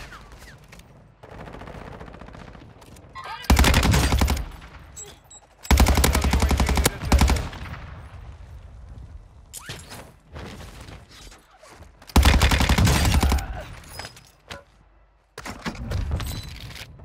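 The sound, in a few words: gunfire from Vaznev-9K submachine gun in Warzone 2 video game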